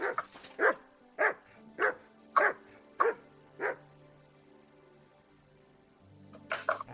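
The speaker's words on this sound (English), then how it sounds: "Good dog, Mutz. Show me." Mutz, a dog in the medieval video game Kingdom Come: Deliverance 2, barks six times in a steady rhythm, each bark loud and close, followed by a pause and a final short burst of barking.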